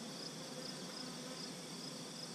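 Honey bees hum continuously and densely inside an opened hive during an August inspection, a steady close buzz with no voices.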